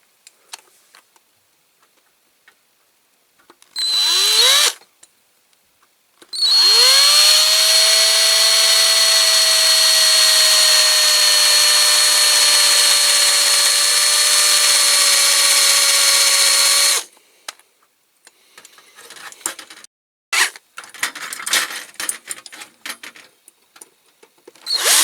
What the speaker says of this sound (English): Okay, so I'll drill that out.